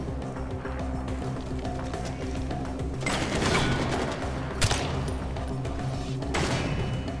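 A few loud gunshot bursts in Far Cry 4, spaced seconds apart, cut through a constant droning background.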